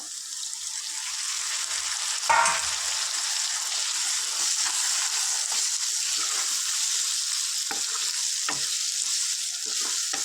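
Steady sizzle of broad beans frying in a pan as three tomatoes are dropped in, a brief louder splash near the start, then continuous hiss with faint stirring clicks and scrapes.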